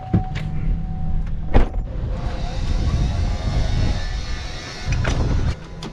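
Farm truck during harvest, its engine running and moving off to dump a load, with a steady motor rumble and door or window clunks in windy outdoor conditions.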